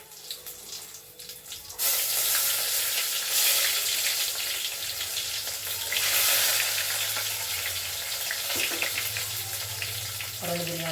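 Chutney tempering of spices hitting hot oil in a home kitchen: after a quiet start, a loud sizzle bursts in and settles into a steady, close crackling hiss with brief clinks.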